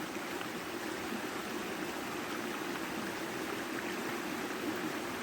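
A stream flows in a steady, unbroken rush of water, with dense and even wash throughout and nothing else heard.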